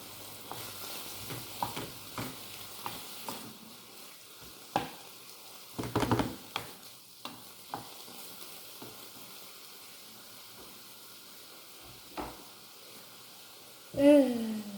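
Lamb meat and onions frying in a pan, soft sizzling with scattered scraping clicks of stirring, fairly quiet, with brief talk near the end.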